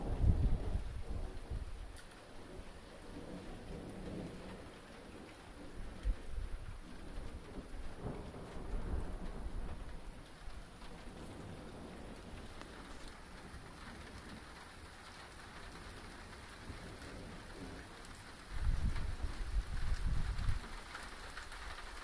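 Heavy rain pours during an Arizona lightning storm, a constant hiss broken by deep rolling thunder rumbles near the start, midway and again toward the end, with faint birdsong in the background.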